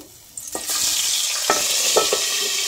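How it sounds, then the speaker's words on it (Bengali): A fish head dropped into hot oil in a pan, quiet until a sudden burst of sizzling that then holds steady and loud, with a few spatters and pops, no talking. "মাছের মাথাটাকে আগে ভালো করে লাল করে ভেজে নেব"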